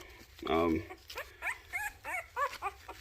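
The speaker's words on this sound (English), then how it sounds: "he's extremely energetic to be a young pup" A young puppy yelps and whimpers in a string of short, high cries, with one longer whine near the start, close by.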